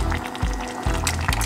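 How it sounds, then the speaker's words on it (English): Vegetable stock pours into a pot of eggplant stew, a steady liquid splash with a few soft gurgling pulses, close and alone. "We're gonna put a vegetable stock"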